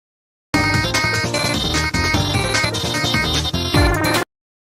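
A song plays back as dense, loud music for nearly four seconds, starting abruptly and cutting off just as sharply, with no talking over it.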